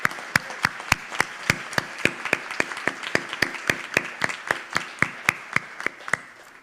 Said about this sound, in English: Let's give the family and friends of our graduates a round of applause